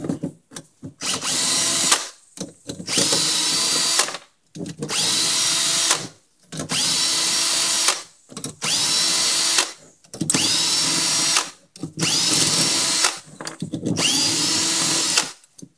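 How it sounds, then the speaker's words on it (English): A cordless drill fitted with a 7mm socket backs out ignition coil bolts in seven loud whirring bursts of about a second and a half each, with short pauses and clicks between them. "Get a drill and just put a 7mm socket here on the end of it, and we're going to remove these 7mm bolts"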